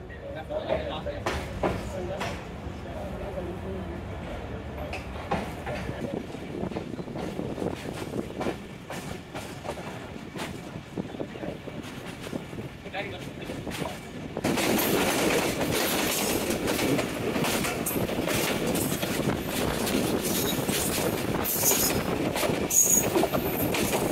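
The Dhaka Commuter train departing Tongi Junction station rolls along the tracks with steady rumbling and clattering, growing louder and brighter partway through, with people talking faintly underneath.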